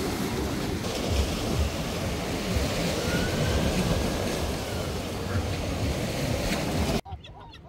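Sea waves wash steadily onto Blackpool beach with strong wind buffeting the microphone, a constant loud roar that cuts off abruptly near the end.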